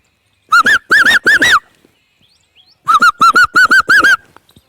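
Two bursts of an Asian koel's rapid, rising whistled kuhu notes, four or five in each quick series, with a short quiet gap between them.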